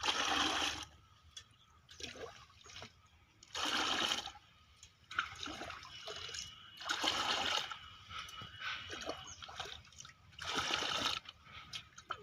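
Water splashes and gushes in repeated loud bursts, as if poured from a container into a bucket on a farm, with quieter trickling between the pours.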